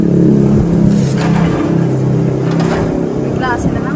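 A car engine idles with a steady low rumble, loud and close, before it is switched off, while people talk over it.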